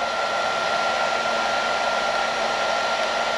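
A heat gun blows steadily while heating carbon fiber vinyl on a Chevy emblem, a loud, even airy roar that holds unchanged throughout with no talking.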